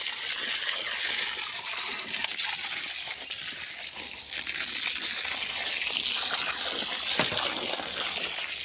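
Water gushing steadily from a hose or pipe while a home garden is watered, a continuous close splashing rush with no talk.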